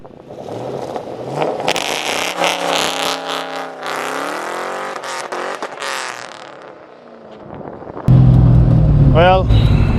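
A Lincoln Aviator fitted with a swapped Mustang GT engine revs hard after a missed shift into second gear, its pitch sweeping up and down in loud, uneven surges before a harsh burst of noise at the end.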